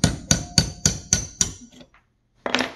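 Hammer strikes driving the drive pin out of a Master Lock hidden-shackle padlock cylinder held in a vise: six sharp, evenly spaced metallic blows close up, a brief quiet pause, then a final rattling knock.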